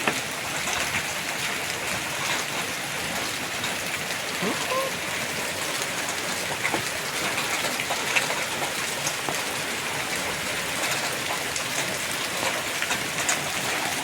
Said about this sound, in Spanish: Vean qué tipo de granizo tan grande.